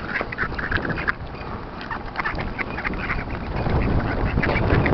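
Ducks quack repeatedly in a busy, overlapping chorus, close and fairly loud, over a constant background rush that swells toward the end.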